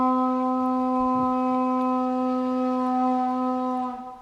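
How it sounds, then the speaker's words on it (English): Ancient cattle horn blown as a war signal, one long sustained droning blast held steady for several seconds before fading out, heard alone. "These horns, made from, as the name indicates, the horn of cattle, are amongst the oldest wind instruments in history"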